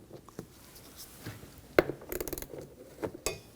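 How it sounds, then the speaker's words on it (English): A 13mm socket turning wing nuts on the engine cover of a 2007-2013 BMW X5, a few sharp ratcheting clicks and metallic taps in short bursts, close and fairly quiet, with no talk. "You just take a 13mm socket. You just have to twist them 90 degrees."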